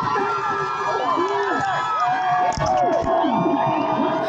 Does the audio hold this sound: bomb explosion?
no